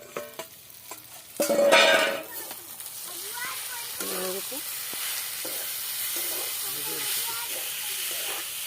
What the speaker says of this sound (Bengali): আমি দেখি শাক ভাজা